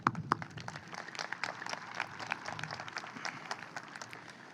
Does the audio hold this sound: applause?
yes